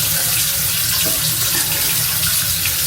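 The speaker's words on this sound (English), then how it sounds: "Let me turn this water off." A tap runs steadily into a sink, a close, continuous hiss of flowing water with no speech over it.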